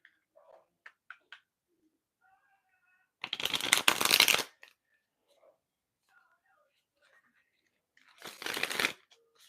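Tarot deck being shuffled in two quick riffling bursts, close and crisp, separated by quiet gaps with faint small handling sounds.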